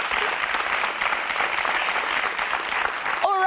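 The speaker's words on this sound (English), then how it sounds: "I think that deserves a big round of applause." A studio audience at a leadership competition show breaks into a full round of applause, dense and steady for about three seconds before a voice cuts in at the end.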